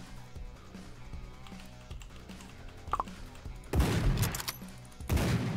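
Gunfire from the video game AK-xolotl: soft clicks and small pops early on, then two loud, dense bursts of shots near the end, with no talk.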